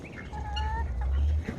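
Chickens cluck close by while feeding outdoors on a farm, with several short tonal clucks over a low, steady rumble of background noise.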